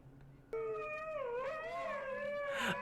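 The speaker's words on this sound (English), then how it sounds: "Is this a video of a dog howling?" A dog howls in a long, wavering, rising and falling cry that starts abruptly and holds loud and close, ending in a higher strained whine.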